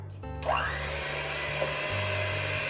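An electric mixer starts up and whirs steadily while beating vanilla cake batter, a close, continuous motor hum with slight shifts in pitch and no talking.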